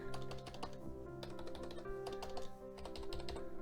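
Typing on a Razer computer keyboard, a fast close run of crisp key clicks in bursts with brief pauses between them.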